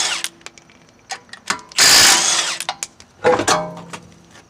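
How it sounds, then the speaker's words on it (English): A power tool fitted with a 21mm socket spins off lug nuts on a 1995-2000 Toyota RAV4 front wheel, giving a loud close whirring burst amid clanks and tool handling noises. "you'll need a 21mm socket to remove the lug nuts"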